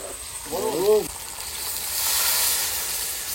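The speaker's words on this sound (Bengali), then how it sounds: "খাও, কষিয়ে দিয়েছি পুরো কষানো মাংস। এবার জল দিয়ে দেবো।" Water is poured into a pan of braised meat, and the hot pan answers with a loud hiss and sizzle that swells and lingers. A brief voice is heard at the start.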